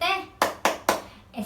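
Children perform the SDIT school clap chant in a classroom lesson, with three sharp claps in steady rhythm, close and loud, followed by a short vocal onset.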